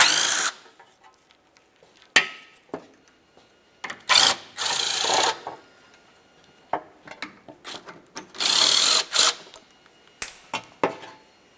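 Close-range bursts of a power tool spinning out the 15mm headed bolts of a skid shield under a 2000-2006 Chevrolet Tahoe, short whirring runs broken by pauses and small metallic clinks.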